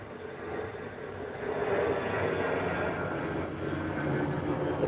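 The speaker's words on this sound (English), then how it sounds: "The planes, the planes." Airplanes flying overhead, heard as a broad, steady roar that swells after the first second and holds loud to the end, with no voices.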